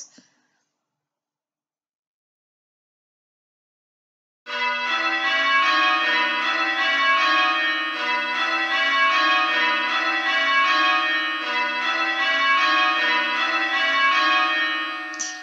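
Church bells ringing changes for handstroke practice, a silence and then a steady, continuous stream of overlapping metallic strikes in a regular rhythm, loud and close.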